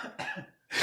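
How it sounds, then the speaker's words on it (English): A couple of short, harsh coughs close to the microphone, separated by a brief silence. "And I just cough the next time it comes up."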